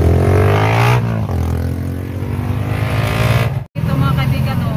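Heavy, slow-moving traffic of cars in a long queue, a loud close engine drone and passing vehicle rumble running throughout, with people speaking over it.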